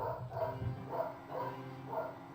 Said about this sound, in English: I apologize for the barking Yoshi Courtney over there.